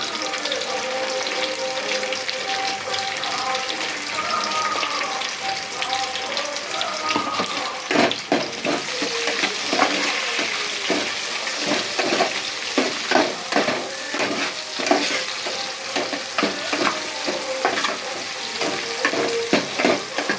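Green chillies fry in a hot pan with steady crackling sizzle, broken by frequent stirring scrapes and clatter of a utensil; tonal sounds and faint voices sit in the background throughout.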